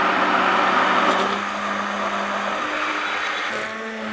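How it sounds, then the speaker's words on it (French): An immersion blender whirs in liquid to break up lumps in a wood-finishing mix, a steady motor hum whose pitch drops partway through, then rises again near the end. "d'utiliser donc un mixeur plongeur, comme celui-ci, qu'on pique dans la cuisine, de manière à pouvoir faire, hop, sauter tous les grumeaux"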